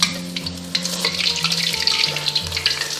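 A piece of tofu frying in a pan of oil, giving a bright, crackling sizzle with occasional stirring knocks, close and steady throughout with no voices.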